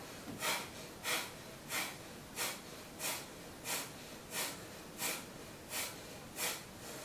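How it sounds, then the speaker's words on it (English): Deep, even breaths in a yoga class follow a regular rhythm of about ten airy exhalations, each a soft whooshing swell, close and alone. "Coming back to center, and 10 breaths to the other side."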